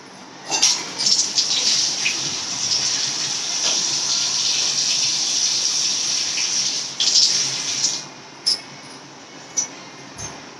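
Coriander leaves rinsed under a running kitchen tap: a steady, close gush of water for about eight seconds, then the flow stops and a few scattered drips and splashes follow.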